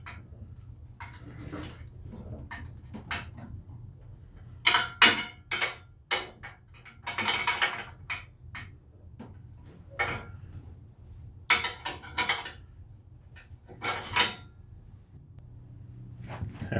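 A wrench works a bolt on a snow blower carburetor, making irregular close metallic ticks and clicks in small bunches over a low steady engine-shop hum, with no talking.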